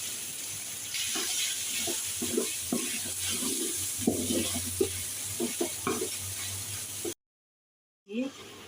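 A spoon scrapes and stirs beans, carrots and meat in a sizzling pan, with steady frying hiss under irregular close scraping strokes that stop abruptly near the end.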